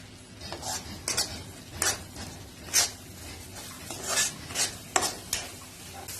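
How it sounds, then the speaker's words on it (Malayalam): Kadai masala is sautéed in oil in a pan for kadai chicken, with a soft sizzle under repeated scraping and clinking of a spoon stirring at an irregular pace, close by. "എണ്ണ തെളിഞ്ഞു വരുന്നത് വരെ വഴറ്റിയെടുക്കണം."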